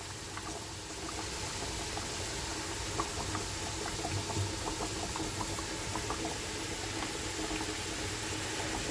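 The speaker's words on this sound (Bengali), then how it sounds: "এইদিকে আমার ঝোলটা ফুটে গেছে" Fish curry broth boiling in a pot on the stove, a steady bubbling simmer with small pops, close and moderately loud throughout, no voices.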